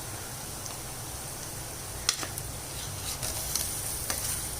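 Onions and tomato frying in a pan for a ridge gourd and drumstick kuzhambu, giving a steady, low sizzle with a few faint clicks and stirring taps. No talk is heard.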